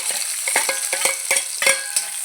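Shallots and chopped coconut pieces tossed into a dry, oil-free hot clay pot, crackling and sizzling with a run of sharp close stirring scrapes, loud and alone.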